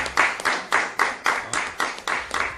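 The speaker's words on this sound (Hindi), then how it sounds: "यहाँ तो ताली बजाते हुए देखो।" A group of people clapping at a government ministry meeting, a steady rhythm of about nine even, fairly close claps without talk.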